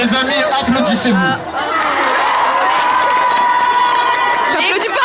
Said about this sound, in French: Les amis, applaudissez-vous.